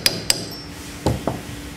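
Light taps of a small hammer seat a rotating-head tablet press punch back into its holder after the clamp screw is locked, four sharp metallic knocks in two pairs, close and fairly quiet, with no talking.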